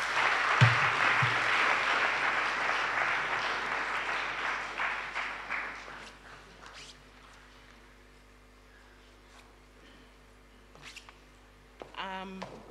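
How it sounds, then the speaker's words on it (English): Audience applause at the NITA strategic plan launch event, a dense burst of clapping that fades over several seconds into a quieter room, with a few scattered claps and faint voices after. "Let's give him a hand of applause."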